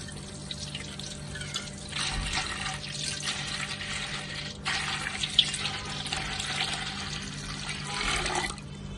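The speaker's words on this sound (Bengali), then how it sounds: "হাঁড়ির মধ্যে মাংস রাখলাম আর তারপর পানি দিলাম।" Water poured into a pot of raw beef pieces makes a steady, close splashing rush that swells and eases for several seconds with no talking.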